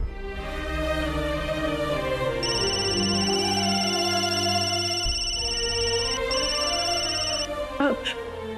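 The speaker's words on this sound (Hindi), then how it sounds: "भाभी का फोन बज तो रहा है। रिंग हो रहा है।" A steady electronic phone ring tone repeats for several seconds over a low background hum, with a brief break near the end.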